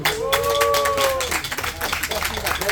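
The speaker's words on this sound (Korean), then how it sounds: "뜨거운 박수 한번 부탁합니다." An audience claps for a guitarist at an outdoor farm gathering, with a burst of close applause carrying over a voice and some background noise.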